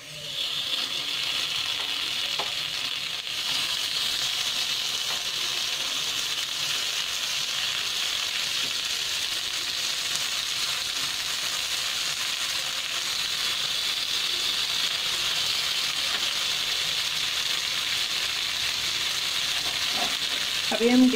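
Vrat tikki sizzling steadily in a little oil in a pan, a loud continuous frying hiss that runs unbroken throughout with no talking.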